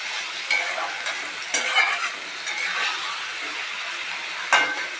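Mushrooms fry in a pan with a steady broadband sizzle and hiss, broken by a few sharper scraping stirs of a utensil; moderately close, no voices.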